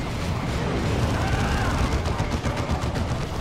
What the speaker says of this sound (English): The turret is shooting sometimes.